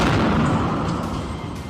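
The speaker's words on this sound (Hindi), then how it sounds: "तोप से दागे गए गोले का" A loud artillery shell fired from a cannon in the Russia-Ukraine war, a deep booming blast that rolls and decays over under two seconds.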